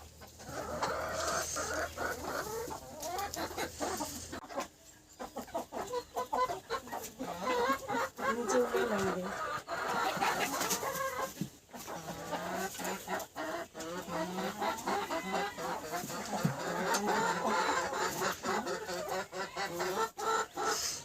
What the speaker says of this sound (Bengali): এগুলো লাল মুরগি না? হ্যাঁ, লাল মুরগি।